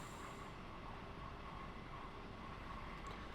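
Another AI-driven train rumbles past on the Pegnitztalbahn between Bayreuth and Nuremberg in a train simulator, a steady, even, fairly quiet roar with no breaks.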